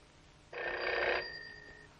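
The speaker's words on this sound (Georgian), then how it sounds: "რომელი ტელეფონია?" An old telephone bell rings in a single short burst of bright, rattling tone at moderate volume, in a 1975 Georgian film scene, with quiet room noise before and after.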